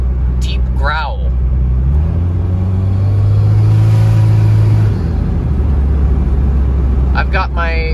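A Subaru car with an external wastegate accelerates at about 45 mph, its engine a loud, steady low rumble that swells and then settles, with someone talking briefly over it.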